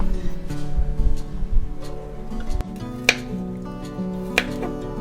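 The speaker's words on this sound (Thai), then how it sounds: "ต้นหอมนะคะ ก็หั่นเป็นท่อนๆแบบนี้ค่ะ" Knife chopping spring onions into short lengths on a board: a few sharp, separate cuts stand out near the end over a steady background hum, close and moderately loud.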